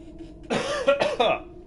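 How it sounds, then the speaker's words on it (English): A short burst of harsh human coughing, two or three quick hacks close up, with quiet before and after. "Sorry about the coughing."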